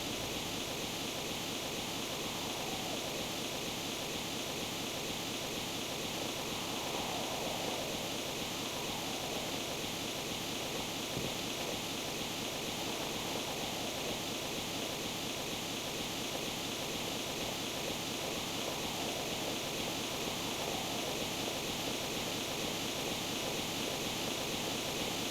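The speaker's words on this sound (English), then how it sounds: "the waterfall is so loud" Loud waterfall in the PlayStation game Mizzurna Falls, a constant dense roar of falling water that fills the whole stretch without pause, alone and unchanging.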